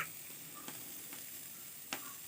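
Arbi leaf vegetables fry in a kadhai while being stirred with a spoon, giving a faint, even sizzling hiss with two small clicks of the utensil.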